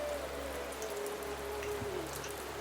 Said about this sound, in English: the rain picks up as the group of you kind of file in